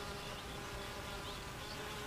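Honeybees buzz around their hive in a soft, continuous drone that stays faint and even throughout, with no voices.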